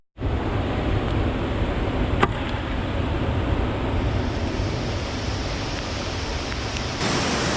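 Whitewater in the Tiefenbachklamm gorge at high water, a powerful, constant roaring rush that starts abruptly and fills the whole clip, close and loud, with a few brief clicks on top.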